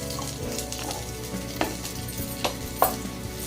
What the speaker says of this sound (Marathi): तेलामध्ये कांदा आपण घालून कांदा आपण छान पचवून घेऊयात